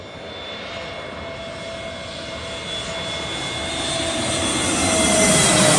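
Airbus A321neo jet taxiing at Birmingham Airport, a steady loud engine roar with a high whine that grows gradually louder and closer over several seconds.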